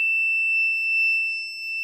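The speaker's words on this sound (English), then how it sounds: "the buzzer is giving us an output" A water tank level alarm's buzzer sounds a steady, piercing electronic tone continuously and loudly as the tank fills, with no voices.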